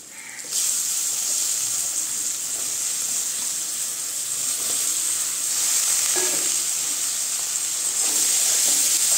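Sliced brinjal frying in hot oil with lightly fried onions: a steady, close, loud sizzle and hiss with occasional stirring scrapes, no voices.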